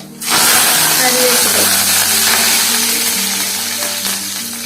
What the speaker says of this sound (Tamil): எண்ணெய் சூடாயிடுச்சு, கடுகு போட்டுக்கலாம்.